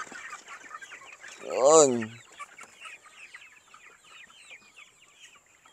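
Naked neck chickens on a poultry farm with about a thousand birds: one loud, nearby squawking cluck stands out over steady, fainter clucking from the rest of the flock.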